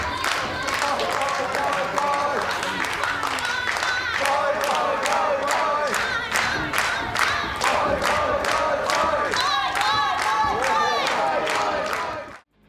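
A wrestling crowd roars with cheers and rhythmic chanting and clapping, loud and sustained throughout before cutting off abruptly at the end.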